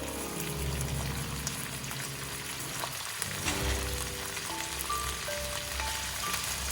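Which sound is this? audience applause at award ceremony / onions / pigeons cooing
onions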